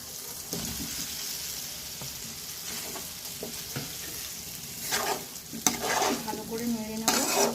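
Fried potato and pointed gourd are stirred into sizzling masala in a pan, with steady frying hiss and repeated scraping stirs that grow louder toward the end, without talk.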